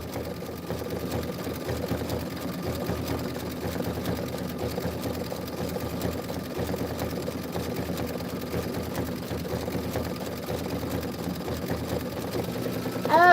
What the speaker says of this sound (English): we are stitching out the railing right now